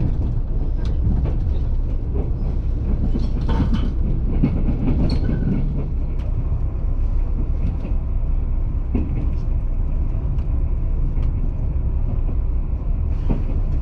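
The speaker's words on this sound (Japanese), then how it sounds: "山陰本線を走ってきた八雲は伯耆大山から白尾線へと入る" A Super Yakumo express train on the Hakubi Line in Japan, a mixed-livery set of four revival-colour and two standard cars, rumbles steadily throughout with continuous rolling wheel noise and occasional rattles and clicks.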